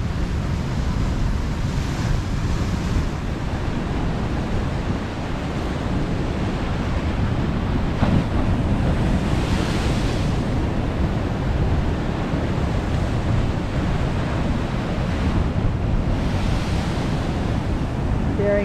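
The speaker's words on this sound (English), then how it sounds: "And then down here you hear the sounds of it as it washes out." Ocean surf washes out along the rocky shore at Montana de Oro, a steady broad roar of waves with wind buffeting the microphone throughout.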